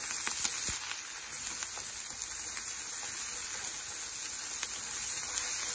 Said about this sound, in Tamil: வெங்காயம் குடமுளகாய் லைட்டாக வதங்கிடுச்சுங்க, ரொம்ப வதக்கிடாதீங்க